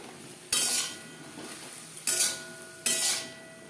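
Okra being fried over a medium flame with turmeric, red chilli powder and salt, stirred in a pan with three sharp metallic scrapes and clinks above a low sizzle, no voices.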